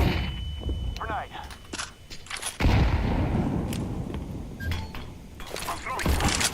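A grenade goes off in a shooter video game with a sudden loud broadband blast about midway, followed by sustained rumbling gunfire and action noise while players shout callouts over it.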